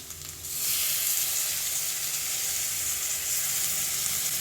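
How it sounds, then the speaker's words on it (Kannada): Methi leaves and capsicum fry in a pan, a quiet start giving way to a sudden, steady loud sizzle and hiss that holds to the end, with no talking. "ಇದು ಫ್ರೈ ಮಾಡ್ಕೊತೀನಿ ಜೊತೆಲಿ ಹಾಕೊಂಡು"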